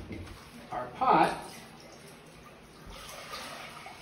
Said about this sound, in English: we're going to add water to our pot